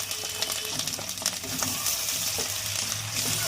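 Onion fried with ginger-garlic and cumin-coriander paste is stirred in a pan for a homestyle Bengali chicken curry, making a soft continuous sizzle with light scraping.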